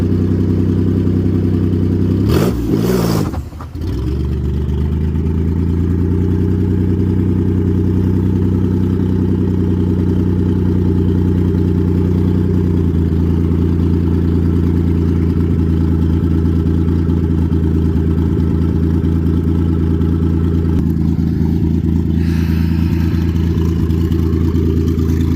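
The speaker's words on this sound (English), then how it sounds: "Can it do a burnout?" A Maserati Biturbo's engine runs loud and close, steady and rumbling with a brief sharp clatter early on, holding a strong idle-to-rev drone throughout with no talking.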